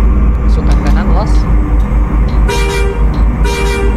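A loud original factory bus horn honks in short bursts over a constant rumbling engine, with voices talking over the noise.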